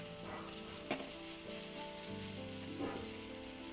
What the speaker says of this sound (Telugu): వేగిన తర్వాత ముందుగా కోసుకుని పెంచుకున్నటువంటి ఉల్లికాడలను కూడా అందులో వేసుకొని వాటిని కూడా బాగా కలుపుకుంటూ